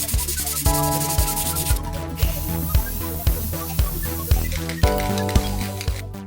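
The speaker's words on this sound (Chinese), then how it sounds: "打磨一下就能喷漆了。" Sanding putty filler on a replica of an early computer casing, steady rhythmic rubbing strokes repeating about every half second, close and fairly loud with no talking.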